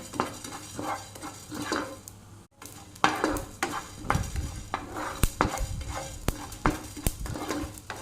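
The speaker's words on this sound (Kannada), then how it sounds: "ಇವಾಗ ಒಂದು ಅರ್ಧ ಟೀ ಸ್ಪೂನ್ ಆಗುವಷ್ಟು ಜೀರಿಗೆಯನ್ನು ಹಾಕ್ತೇನೆ ಎರಡನ್ನು ಫ್ರೈ ಮಾಡಿ" Cumin seeds, with coriander seeds, dry-roast in a pan while a spoon stirs them, giving quiet, irregular scraping and rattling with a soft sizzle and small clinks near the pan.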